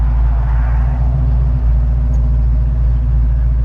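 Car engine while driving, a loud continuous low rumble and hum heard from inside the cabin, steady throughout.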